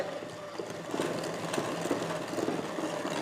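A cordless hand mixer whirs steadily while beating butter into a mixture, a continuous close motor hum with slight rattling beater texture.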